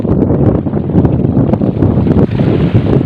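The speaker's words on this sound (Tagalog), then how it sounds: "lumalakas na yung hangin" Strong wind buffets the microphone in a constant roar from a small fishing boat at sea as weather worsens, with churning waves and rushing water beneath, loud and close.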